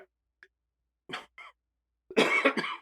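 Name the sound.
cough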